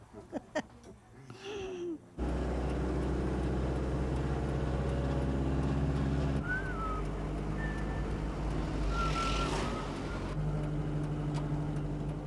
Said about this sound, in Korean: 그 무렵 트럭 하나가 할머니와 노점상들이 있는 아파트 입구에 들어섰습니다.